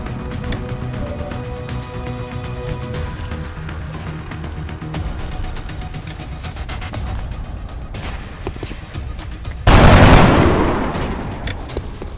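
Gunfire in the X-COM video game, a sudden loud burst of shots near the end that tails off, after a stretch of busy game music and effects.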